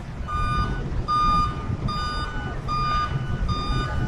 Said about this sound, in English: So this guy thinks he's going to back into this gridlock traffic.